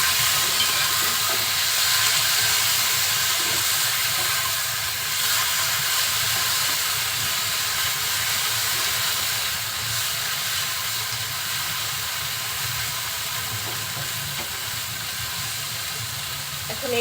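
Red amaranth greens dropped into hot oil with fried garlic, a steady even hiss of sizzling oil that runs the whole time at a constant level, with no talk.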